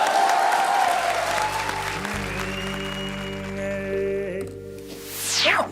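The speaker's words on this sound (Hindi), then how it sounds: "जरा जोरदार तालियां जरा" Studio audience applause on a Hindi TV comedy stage show, a loud continuous wash of clapping with musical tones and sound effects layered over it, swelling again toward the end.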